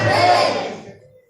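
A church congregation at a Baptist service shouts amen together in one loud, brief burst of massed voices that quickly fades into silence.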